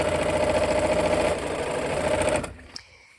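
A sewing machine runs steadily as it stitches a basket quilt block, a close, fast mechanical whir with rapid rhythmic needle ticking. The motor stops about two-thirds of the way through, leaving a quiet room and one small click.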